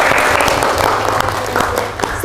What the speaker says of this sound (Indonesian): Tepuk tangan sekali lagi untuk Vanessa.